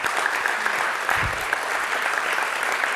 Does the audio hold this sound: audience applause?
yes